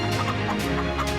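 Chickens cluck in a fantasy online role-playing game, a soft repeated clucking over a constant musical bed.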